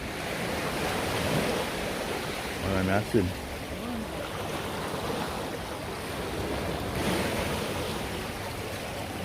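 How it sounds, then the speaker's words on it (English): Rough sea waves at the Ocho Rios fishing beach in St. Ann, Jamaica, a steady close surf wash with rising surges and wind rumble, while someone speaks briefly partway through. "Sea rough this morning"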